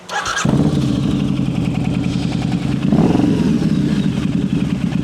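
A Harley V-Rod motorcycle engine cranks and fires up after a brief starter whine, then settles into a loud, close, uneven loping idle with a slight rise in revs partway through.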